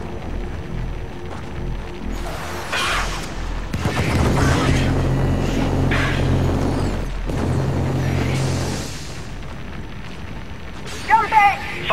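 Artillery barrage explosions in the game Helldivers, a drawn-out rumbling series of deep booms and crackling blasts, with a voice calling out over the din and sharper bursts near the end.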